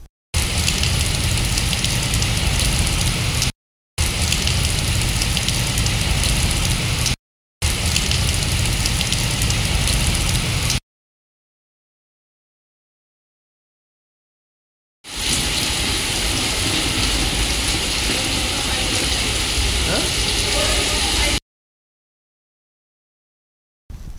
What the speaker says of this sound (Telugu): ఉరుములు, మెరుపులు, ఈదురుగాలులతో వర్షం పడుతోంది.